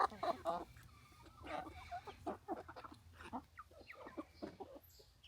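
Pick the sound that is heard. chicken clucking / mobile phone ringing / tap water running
chicken clucking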